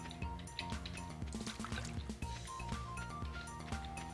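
A watering can sprinkles crops in the Stardew Valley farming game, making a steady splashing, trickling pour of water over light background music, with no voices.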